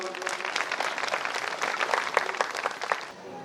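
An audience at an annual school gathering clapping together, a dense, steady burst of applause from many hands that holds for about three seconds and then fades.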